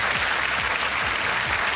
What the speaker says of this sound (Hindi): तालियां बज गई हैं पहले